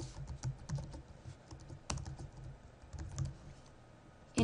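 Fingers type an event name on a computer keyboard for a student calendar entry, a quiet, irregular run of close key clicks with brief pauses and a few sharper taps.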